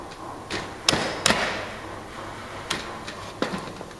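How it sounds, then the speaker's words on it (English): Steel chisel pushed through timber to cut a housing joint for a door lining, giving a few sharp, close knocks and thuds spaced irregularly over a quiet background. "we can now push through using our chisel, nice and straight, nice and flat"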